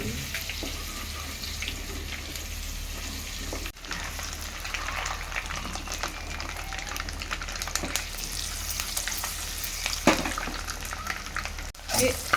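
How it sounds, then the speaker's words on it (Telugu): Onions frying in a pan for egg biryani, a continuous close sizzle with occasional clatter of stirring and a short break partway through. "తర్వాత దీంట్లో ఇదే ప్యాన్లో ఉల్లిగడ్డలు వేసుకుందాం."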